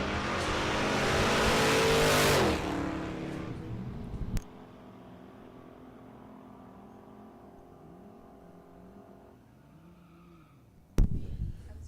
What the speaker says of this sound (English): Should be a good side-by-side drag race.